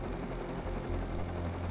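A helicopter in the video game Rust thrums steadily with a loud, close rotor and engine drone, a brief continuous rumble with no talk over it.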